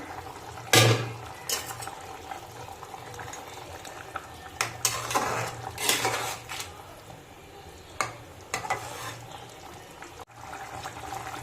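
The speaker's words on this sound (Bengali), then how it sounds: "তরকারিটা ফুটে গেছে, এখন আমি ধোকার ডালগুলো দিয়ে দেবো।" Dhoka pieces of fried lentil cake are tipped into a simmering, bubbling curry pot and stirred, giving a close spatula clatter and wet sloshing bursts over a low steady simmer.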